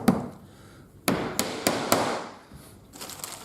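Sharp hammer blows strike in a quick series of about five, close and loud, with a dull woody ring, during work on a wooden buff stick for sharpening tools; no talk.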